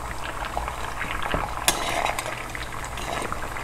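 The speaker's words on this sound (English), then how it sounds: "Now, coconut milk is coming to a boil." Coconut milk coming to a boil in a pot on the stove, a low bubbling simmer with faint clinks of a utensil and one sharp knock partway through.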